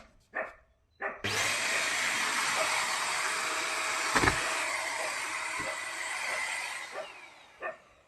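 An Agaro Regal handheld vacuum cleaner with a brush attachment fitted runs steadily for about six seconds, a loud broadband whir with a faint tonal whine, starting and stopping abruptly, with brief knocks before and after.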